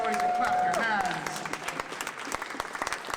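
An audience at a poetry slam breaks into applause and cheering, a dense wash of clapping that thins into scattered claps over a few seconds.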